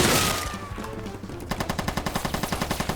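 Gunfire at a tank in a Roblox war game: a loud burst fades out, then rapid, evenly spaced automatic shots rattle close by in a steady stream.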